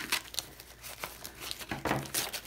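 Packing paper crinkles and tears as a parcel is unwrapped, with close, irregular rustling bursts and short crackles.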